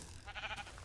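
A sheep in Minecraft gives a short, faint single bleat with a wavering, nasal tone.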